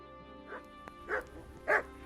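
A dog in the game Kingdom Come: Deliverance gives three separate barks, each louder than the one before, over a quiet background.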